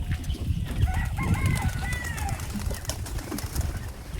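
Pigeons of several named breeds, including Mainagiri, Thamarai, Jajini and Jambagiri, kept in a loft on a windy day, give soft cooing and chirring calls at close range over a steady rumble of wind and low background noise.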